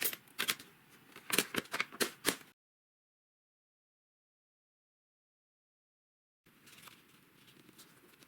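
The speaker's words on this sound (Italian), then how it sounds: "Lo faccio a strappo." Sheets of patterned junk-journal paper torn by hand: a quick run of sharp, ripping bursts up close, a long silent gap, then soft, faint rustling handling of the paper.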